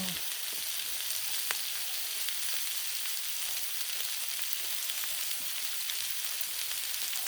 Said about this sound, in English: Time for the veggie dump. Dump these onions.